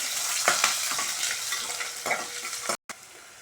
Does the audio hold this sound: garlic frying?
yes